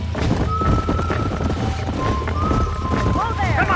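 Horses in the Western video game Red Dead Redemption whinny and gallop: a rapid drumming of hooves and a close, rising neigh near the end, over rushing wind and other horse calls, with a voice talking.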